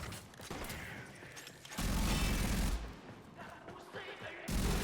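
Prisma Grakata fire from the shooter game Warframe, bursts of rapid automatic gunfire with mechanical clatter, the loudest sustained burst near the middle and another starting at the end, no talking.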